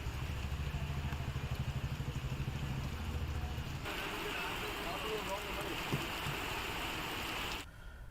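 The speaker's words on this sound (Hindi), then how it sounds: "उदयपुर के ग्रामीण इलाकों में मूसलाधार बारिश से जनजीवन अस्त व्यस्त है" Heavy monsoon downpour in rural Udaipur, Rajasthan: a steady, dense wash of rain roars continuously and loudly, with a low rumbling undertone in the first half before the sound cuts off abruptly near the end.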